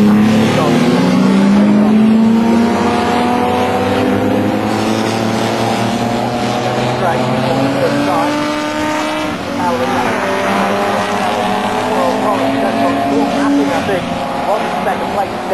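Jaguar XJS race cars of the Toyo Tyres XJS Championship at Snetterton circuit, loud engines roaring and shifting pitch as the pack races past, heard continuously under a commentator's voice.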